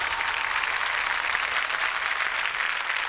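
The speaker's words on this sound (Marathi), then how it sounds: "जोरदार टाळ्या माझ्या नवऱ्याची बायकोसाठी" A studio audience at a Marathi TV comedy show breaks into loud, sustained applause, a dense, even wash of clapping that holds steady for about three seconds with no one speaking over it.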